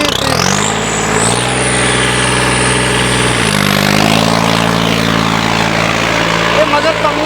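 A New Holland 3630 tractor engine rumbles loudly nearby and revs up twice, its pitch rising and then holding at a steady throbbing drone.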